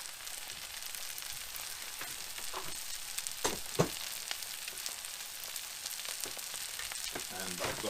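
Eggs frying in a pan at an off-grid tiny home, a constant close sizzle and crackle with a couple of sharper pops and light scraping of a utensil.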